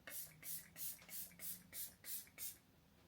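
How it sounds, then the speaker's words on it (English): A setting spray misted onto a freshly made-up face after the makeup is finished, eight short, even hissing bursts in a steady rhythm, close and fairly quiet. "so we can spray this and then we're gonna powder"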